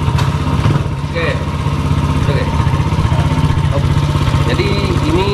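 A homemade three-wheeled motorcycle's engine runs steadily with a low, even throb, close and fairly loud throughout, as the machine is ridden over uneven ground.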